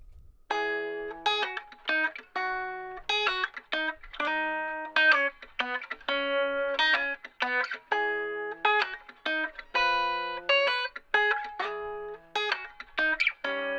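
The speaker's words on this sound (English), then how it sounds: "music based off a little guitar thing-a-ling I wrote earlier" A plucked, effected guitar phrase repeats in short bursts of bright ringing notes, with brief gaps between them, played alone and fairly loud.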